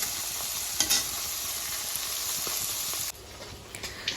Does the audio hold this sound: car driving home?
no